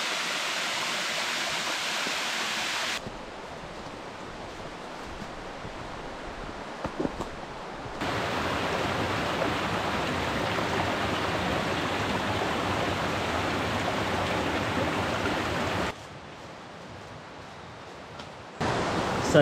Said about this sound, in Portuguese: E lá vamos nós para atravessar mais um trecho de rio.